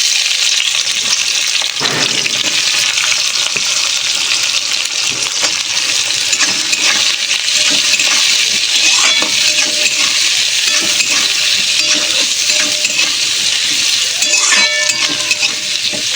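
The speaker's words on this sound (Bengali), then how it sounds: "পেঁয়াজটা একটু ভাজতে দেবো, পেঁয়াজটা একটু লাল হওয়া অবধি আমি অপেক্ষা করব" Chopped onion frying in hot oil with whole garam masala, a loud continuous crackling sizzle with occasional stirring scrapes throughout, no voices.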